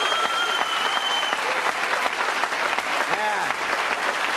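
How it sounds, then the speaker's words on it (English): A studio audience applauding and cheering on a home-improvement TV show set, loud sustained clapping filling the whole stretch, with a few whoops and a brief rising vocal cry near the end. "Have a round of applause for the boys here."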